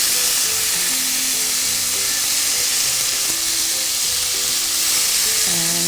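Lemon juice squeezed into a hot pan with salmon raises a loud, continuous sizzle and hiss of frying, close up, holding steady for several seconds.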